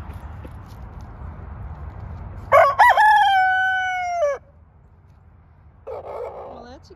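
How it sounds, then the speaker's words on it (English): A farm rooster gives one short, small crow partway through, with a sharp start and a quick finish, over a low background hum. A faint, brief call follows a little later. "that's a cute little crow there, Rusty."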